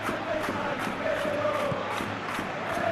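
A stadium crowd in a football video game's Master League match, a steady roar of many voices with faint chanting swells, filling the background at moderate level without talk.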